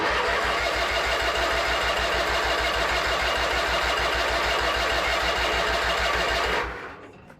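A vintage Craftsman garden tractor engine cranks steadily with the choke on, a loud, even, rapid churning rhythm that runs for several seconds without catching, then abruptly stops into near silence.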